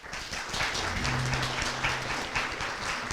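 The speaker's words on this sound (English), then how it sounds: "please give them all a round of applause" An audience applauds at the close of a New Mexico House District 60 candidate forum, dense continuous clapping filling the room at steady volume.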